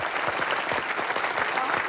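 A studio audience claps loudly and steadily throughout, a dense, continuous wash of applause on the set of a comedy show.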